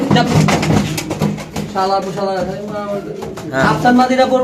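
Aftar pigeon, a female bird, cooing with soft repeated coos amid a busy pigeon market, heard under steady conversation from nearby people.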